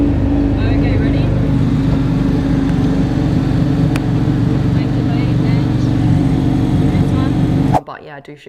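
A supercar engine accelerating on nitrous, a loud sustained motor roar with a steady droning tone that cuts off abruptly near the end, with some voice over it.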